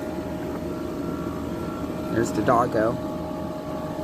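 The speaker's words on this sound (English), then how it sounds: "That compressor sounds quite frightful, but it seems to be working." A noisy LG window air conditioner's compressor runs as a steady broadband hum with a faint tonal whine, close and continuous, while a person speaks briefly over it near the end.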